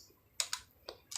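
Several quick keystrokes on a computer keyboard, heard as two pairs of close, crisp clicks separated by a short pause, with no voice.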